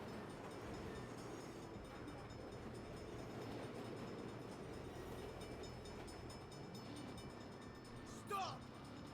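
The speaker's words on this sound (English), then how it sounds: "Crap. Bad time for a train." A train rumbles past steadily in the open-world game Saints Row, a dense low roar with a brief brighter screech near the end, heard close and loud throughout.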